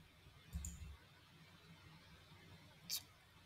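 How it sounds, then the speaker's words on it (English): Two faint, brief clicks from a computer mouse, one early and one near the end, separated by a quiet stretch in a hushed indoor room with no talking. "Right click."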